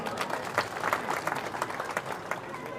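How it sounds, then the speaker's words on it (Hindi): An audience at a village awareness gathering claps in welcome for the chief guest, a professor and MLA, giving brief, dense, fairly even applause at moderate distance with no speech. "तो मैं एक बार प्रार्थना करूंगा जोरदार तालियों से उनका स्वागत।"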